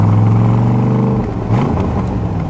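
A fuel-injected 1965 Chevrolet Corvette Stingray with a 4-speed, running on 100 octane gas, revs loud and close: a steady deep engine drone, then a brief dip and a rising rev, with no talking.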